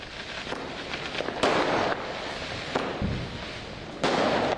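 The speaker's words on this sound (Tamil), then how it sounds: "தீபாவளி பட்டாசுகளை வெடித்து வருகின்றனர்." Diwali firecrackers bursting outdoors during the night festival celebrations in Tamil Nadu, a few sharp loud bangs standing out over a constant crackling, hissing din of more distant fireworks.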